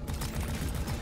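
Rapid gunfire in the co-op mining shooter Deep Rock Galactic during an elite deep dive, a continuous dense stream of shots for about a second, loud and close.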